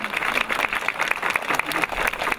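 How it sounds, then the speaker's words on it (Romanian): An audience at a village school's start-of-year ceremony applauds the new preparatory-class pupils with brisk, dense clapping that carries on steadily at close range, with a faint murmur of voices underneath. "Haideți să-i aplaudăm"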